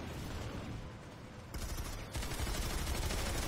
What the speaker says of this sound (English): We're trading infantry fire.